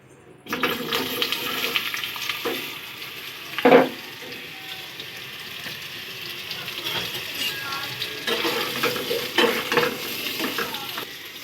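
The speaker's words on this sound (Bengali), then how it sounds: "দিলাম তেল তেল দিয়ে একটুখানি আমার টস করা টস করা আলুগুলো আমি একটু ভেজে নেবো" Tossed potatoes frying lightly in a little oil, with a steady soft sizzle and occasional stirring scrapes running throughout, one brief louder clatter partway through, close and moderately loud.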